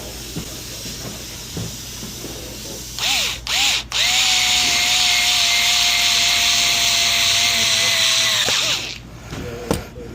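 A power drill driving screws revs in two short bursts, then runs steadily for several seconds with a high whine before stopping; a brief clatter follows.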